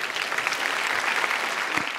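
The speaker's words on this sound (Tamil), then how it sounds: "உங்களுடைய பலத்த கரகோஷங்கள்." Steady, loud audience applause fills a Tamil speech competition hall, a continuous wash of clapping from many hands with no break.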